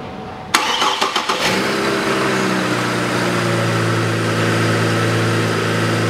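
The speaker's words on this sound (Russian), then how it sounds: "Все, двигатель работает мягко" Chevrolet TrailBlazer 4.2 engine, just after its air-conditioning compressor bearing was replaced, cranks with a few rapid bursts, catches, and settles into a loud, steady, smooth idle hum.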